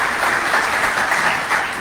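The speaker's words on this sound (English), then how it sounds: "They deserve a great round of applause" A conference audience applauds a telemedicine panel, a short burst of steady, full clapping with no voices over it.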